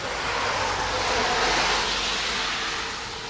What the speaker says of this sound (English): Sorry guys, if you hear that car